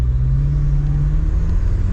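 BMW M6 fitted with a new aftermarket exhaust, driving on the road under load, giving a steady, loud, deep engine rumble and drone from inside the car, with no talking.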